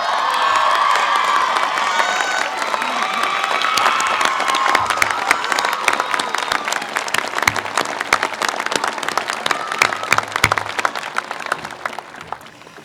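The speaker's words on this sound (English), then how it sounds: "So please help me applaud Professor of Psychological Sciences, Christina Scott." Commencement audience applauding and cheering, a dense sustained wash of clapping with whoops and shouts, loud and close, continuing steadily and thinning slightly toward the end.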